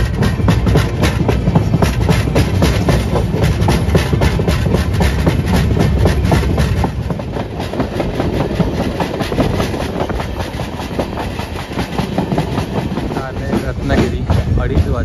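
Mandovi Express on the Konkan Railway heard from inside a crowded general coach, a loud steady rumble with rapid rhythmic clickety-clack of wheels throughout.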